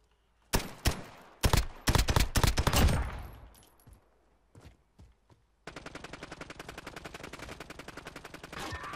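Gunfire in Call of Duty Modern Warfare: a burst of loud, close shots in quick succession fading into scattered distant pops, then a long, fast, even string of rapid automatic fire like a gun glitching.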